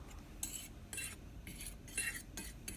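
Cube steak being mixed with seasoning and meat tenderizer, heard as a series of faint, rhythmic metal-utensil clinks and scrapes against a bowl about every half second, with no talking.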